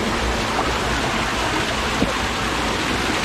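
Loud, unbroken roar of the Kokegawa Otaki waterfall, a dense full-spectrum rush of falling water heard up close without any voices.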